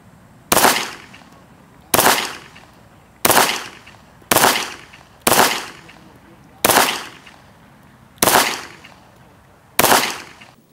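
A Walther PK 380 pistol firing .380 ACP rounds at a shooting range: eight loud, sharp reports spaced evenly about a second and a half apart, each ringing out briefly before the next.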